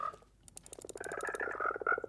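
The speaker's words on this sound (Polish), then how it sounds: "kiedy tych ropuch jest naprawdę sporo, brzmią fenomenalnie" Frogs croak in Minecraft 1.19, a rapid chorus of clipped, throaty pulses that starts sparse and swells into a steady, overlapping stream of calls with no talk.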